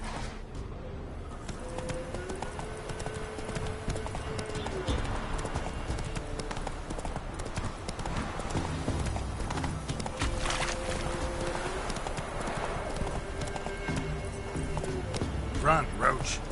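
Roach, a horse in The Witcher video game, galloping with steady rhythmic hoofbeats over a continuous game soundscape, with some tonal music or effects mixed in.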